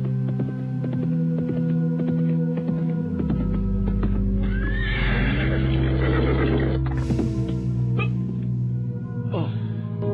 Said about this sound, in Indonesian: ketika dari jauh nampak seorang penunggang kuda menghampirinya